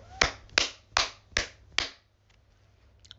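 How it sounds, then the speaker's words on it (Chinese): Five sharp, evenly spaced hand claps ring out close and clear, roughly two per second, during a livestream by a female idol. A few faint taps follow in near silence. "鼓掌"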